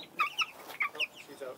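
Hens clucking inside a deluxe DIY backyard chicken coop, several short, close clucks in a loose, uneven rhythm against a quiet background.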